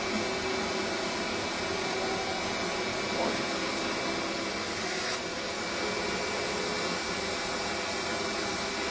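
A CNC engraver's chip removal vacuum runs steadily with the spindle stopped, giving a constant loud broadband whoosh with a faint high whine throughout, with no pauses or talk.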